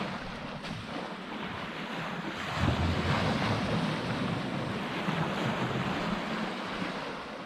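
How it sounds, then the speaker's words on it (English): Sea waves breaking and washing onto the shore on a calm, windless day, a steady rushing roar that swells louder partway through and stays close and continuous. "The waves, they're picking up a little bit now"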